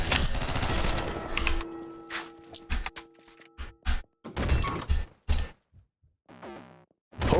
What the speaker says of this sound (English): I can just spam bullets.